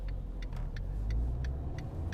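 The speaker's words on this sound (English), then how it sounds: "I bogged down that time. It's either too many revs or not enough." A Fiat Panda 1.2 petrol engine, fourth generation, bogs down while pulling away, a low laboring hum close by with a ticking indicator clicking at a regular pace over it; no one talks.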